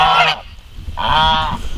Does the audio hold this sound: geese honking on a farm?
yes